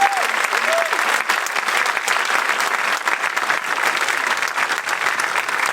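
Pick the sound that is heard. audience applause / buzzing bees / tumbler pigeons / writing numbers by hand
audience applause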